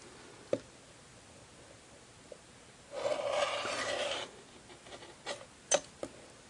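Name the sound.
rotary cutter trimming quilt fabric along a ruler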